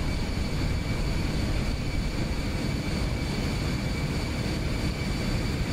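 A jet airliner's engines roar at full throttle during takeoff in the X-Plane 11 flight simulator, a dense steady rumble with a high whine, loud and unbroken for several seconds.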